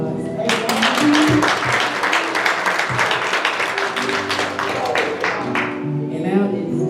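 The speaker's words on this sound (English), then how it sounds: "But can we give all our visitors a round of applause?" A church congregation at a Full Gospel Baptist service claps for first-time visitors, a dense burst of hand claps that builds quickly, holds for several seconds and tapers off, with voices and organ tones underneath.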